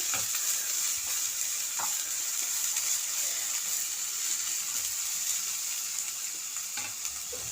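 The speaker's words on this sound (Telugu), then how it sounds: "ఒక 5 మినిట్స్ ఆనియన్స్ పచ్చితనం పోయేంత వరకు వేగనిద్దాము" Onions, curry leaves and dried red chillies fry in a pan for an okra (bendakaya) fry, giving a steady, loud sizzle throughout with a few faint stirring knocks and no talking.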